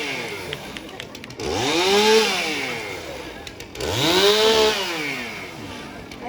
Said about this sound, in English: I'm gonna warm up my chainsaw.